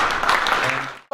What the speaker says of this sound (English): the crowd as they gave a roaring applause